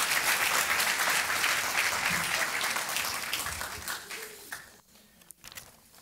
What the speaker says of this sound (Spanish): that strong applause